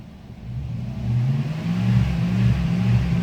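The engine of a 2001 Dodge Dakota with a faulty crankshaft position sensor drones near idle and struggles to hold it, a close, loud, low, uneven rumble that swells slightly and wavers.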